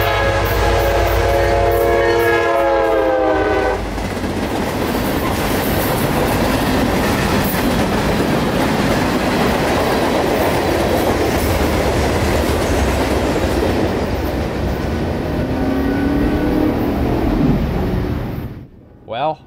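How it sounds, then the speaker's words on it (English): Empty freight train A782 roars past on the S-Line heading north, a loud close horn blast opening into a long steady rush of wheels and rumbling cars that ends abruptly. "A782, who's now done with his work down at Zephyr Hills, has his empty train with a main line clear, and is now speeding back north toward Wildwood"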